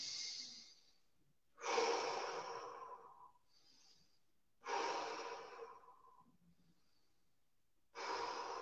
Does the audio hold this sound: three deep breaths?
yes